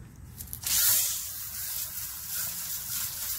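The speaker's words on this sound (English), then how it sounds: "Okay, here's the rough howlite. Let's set it down here and let's rinse it off." Water sprays steadily over rough howlite rock as it is rinsed, a close, continuous hiss that surges in at the start and then holds level.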